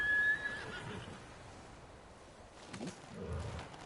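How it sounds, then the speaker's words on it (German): A horse whinnies briefly at the start in the video game Ghost of Tsushima, followed by quieter ambient game noise and a few soft rustles. "Pferd."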